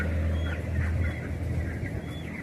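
Chickens in an air-conditioned poultry farm keep up a dense, continuous murmur of clucking, with occasional higher calls over a steady background hum.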